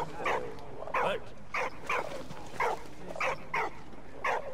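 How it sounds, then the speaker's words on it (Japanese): A dog barks repeatedly in the World War I video game Valiant Hearts: The Great War, about eight fairly even barks at a moderate, close-sounding level with nothing else heard. "あ、ワンちゃん鳴いてる。"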